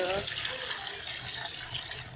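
Running water splashes steadily over moong dal lentils being washed in a kitchen, a continuous close rush of tap water that holds steady for about two seconds.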